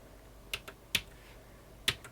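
Three sharp, separate key clicks on a Commodore PET keyboard, spaced unevenly and close by, with no talking.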